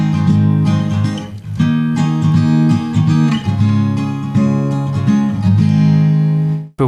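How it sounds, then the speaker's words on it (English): A 1-5-4 chord progression plays on a sustained, bright instrument, with strong, full chords changing every second or so, loud and close, before cutting off abruptly at the end. "traditionally you'd play it 1-5-4 chord progression"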